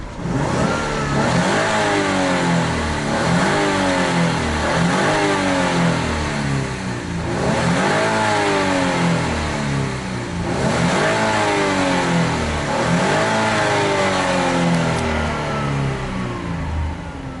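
A 2015 Jeep Wrangler V6 with a 6-speed transmission, running loud and close, revving repeatedly in rhythmic rising surges that fall back between each push.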